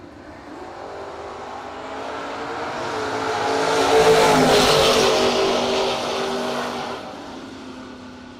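Drag racing launch at a no-box event: a station wagon on a 6.55 dial-in and a Camaro on a 6.50 leave the line with loud revving engines. The roar swells to a peak midway, then fades as the cars pull away.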